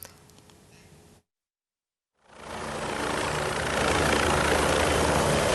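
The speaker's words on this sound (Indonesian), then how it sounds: "Video berdurasi 1 menit 28 detik ini memperlihatkan helikopter 1108 milik Polda Kepri mendarat di wilayah Bintan" A Polda Kepri police helicopter, number 1108, comes in to land in Bintan. After a brief silence, a loud, steady rotor and engine roar rises and keeps building. No one speaks.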